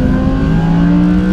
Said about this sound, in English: On roads that we can finally unleash this fabulously naturally aspirated V10 engine.